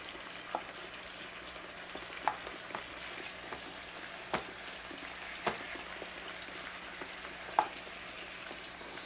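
Beef fries in a pan with a soft, continuous sizzle, punctuated every second or two by faint clicks and taps of a utensil; fairly quiet and steady, without talk.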